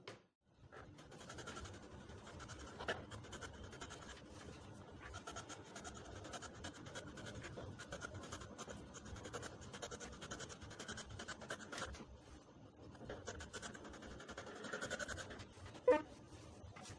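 Fabric for the two back pieces of an A-line shift gown being cut with scissors, a steady soft scratchy rasp of blades through cloth, close and fairly quiet, continuing for a long stretch without talk.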